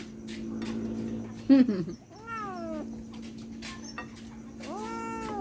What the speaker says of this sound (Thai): แมวกับพ่อแมว